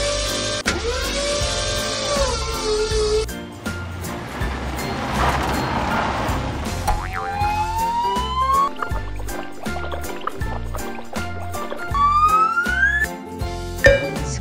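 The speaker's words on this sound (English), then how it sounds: "Fire truck." An electronic toy siren wails in rising, sweeping tones, repeating several times over a steady, bouncy background tune, loud and close.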